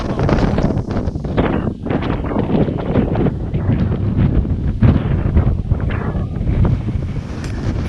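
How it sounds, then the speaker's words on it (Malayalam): Strong wind on the mountaintop at Thulas Mount, Vagamon, roars steadily and buffets hard against the microphone for the whole stretch, with no voices. "കിടിലം കാറ്റാണ്ട. കാറ്റെന്ന് പറഞ്ഞാൽ കിടിലം കാറ്റ്."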